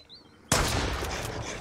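A single sharp, loud gunshot in the video game Mist Survival bursts in after a short quiet lead-in, followed by a sustained roar of noise that stays loud to the end.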